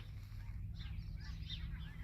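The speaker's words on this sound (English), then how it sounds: "Got geese moving now." Geese honk in flight over a thawing pond, faint scattered calls drifting in the distance above a steady low rumble of wind or engine noise.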